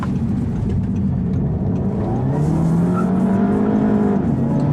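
A 2014 Audi TT 45 TFSI revving hard with traction control on, a steady engine drone rising in pitch as the wheels spin, with a faint tire squeal during a run in Dubai.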